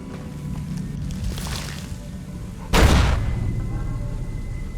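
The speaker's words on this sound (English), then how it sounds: "That was a very underwhelming explosion." A single dull dynamite blast in Fallout: New Vegas, a sudden broadband thump midway that decays into a rumbling tail under steady game ambience.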